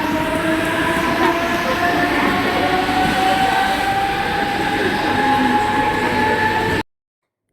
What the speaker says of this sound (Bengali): এবার লোকাল ট্রেনে উঠে পড়েছি